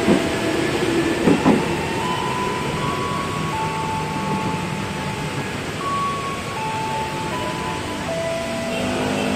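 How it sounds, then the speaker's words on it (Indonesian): A Tokyo 8500 series eight-car commuter train pulls away from a platform at Tanjung Barat station toward Jakarta Kota, its steady rumble and rolling hum continuous under wind and rain, with a couple of brief clanks near the start. "Berangkat dari jalur 2 komuter lain tujuan Jakarta Kota. Tokyo 8500 series, rangkaiannya terdiri dari 8 kereta."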